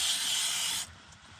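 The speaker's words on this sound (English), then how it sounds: "We'll give it a quick spray with some parts cleaner or brake clean." Short hissing burst of parts cleaner or brake cleaner sprayed onto a car's oil filter during an oil change on a Nissan Altima, a bright steady spray cutting off abruptly after under a second.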